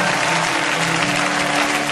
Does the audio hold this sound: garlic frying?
no